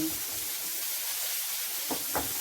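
Tomato sizzling in a pan with bitter gourd and shrimp, a steady bright frying hiss with a couple of soft stirring scrapes near the end, no talk.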